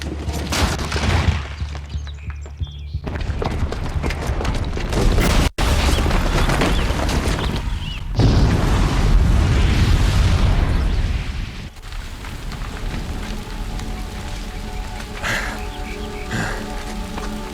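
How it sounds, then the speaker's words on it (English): A loud, sustained blast and rumbling debris roar from a booby-trapped bomb detonating in the video game Horizon Zero Dawn, with a brief cut partway and the roar continuing at full strength before settling into lower crackling rumble. "the booby trap on the bomb downstairs is gonna get set off."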